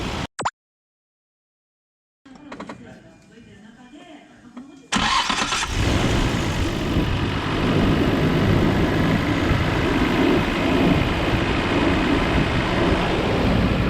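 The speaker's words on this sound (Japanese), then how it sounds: "エンジンかかりました。" A car engine with a newly replaced starter motor cranks briefly and quickly, then catches with a roar and settles into a loud, steady idle that runs to the end.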